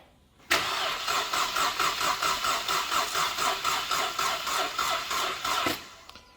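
A Mercedes W212 engine cranks on a weak battery, a steady rhythmic starter churn of even pulses lasting about five seconds without catching, close and loud with no talk.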